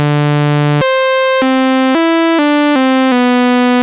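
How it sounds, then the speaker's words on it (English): A Korg ARP 2600 M synthesizer's third oscillator plays a bright, loud sawtooth tone through its filter, stepping through a short sequence of sustained notes of different pitches with no pauses. "And oscillator 3 is normalized as a sawtooth wave into the filter,"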